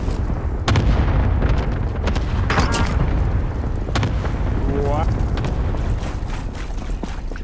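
Airstrike explosions from the video game Call of Duty: Modern Warfare boom heavily and continuously across the clip, loud low rumbles layered with sharp blasts, with a voice briefly speaking over the chaos.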